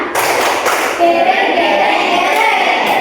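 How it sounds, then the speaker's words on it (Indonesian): A class of students claps together in a room, a dense, loud patter of hand claps that carries on steadily for a few seconds, with children's voices mixed in beneath it. "tepuk tangan untuk yang tidak menghilang"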